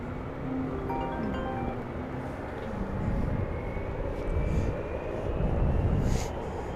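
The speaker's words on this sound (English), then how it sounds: "We got a couple of little Ameriflight Beechcraft." Small Ameriflight Beechcraft aircraft at DFW airport, a continuous loud engine drone rising and swelling over several seconds, mixed with wind buffeting on the microphone.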